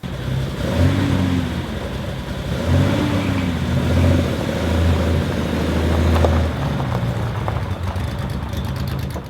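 A car engine runs steadily and revs a few times as the car moves slowly into a garage, close by, with a low rumble throughout.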